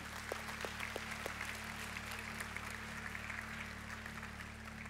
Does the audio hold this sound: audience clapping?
yes